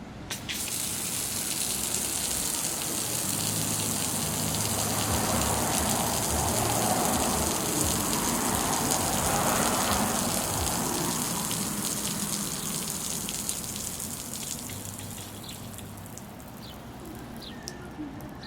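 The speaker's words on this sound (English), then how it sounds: "So I have my water supply shut off, and we'll watch this shrink down now" Water gushes and splashes steadily from a shrinking 75 ft Yuharq expandable garden hose as its pressure drains out, a continuous rushing flow that fades slightly toward the end.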